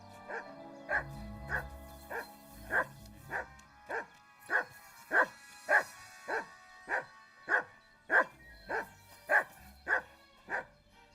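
A dog in the video game Kingdom Come: Deliverance II barks repeatedly in a steady rhythm, about a dozen evenly spaced yappy barks at mid distance, standing clear over a quiet background.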